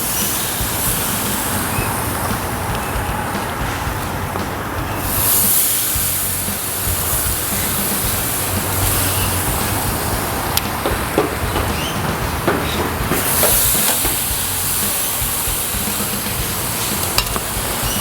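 Char siu pork bao sizzle over a PK Grill heated as hot as possible, a loud continuous spitting hiss with brief swells, sharper pops and no voices.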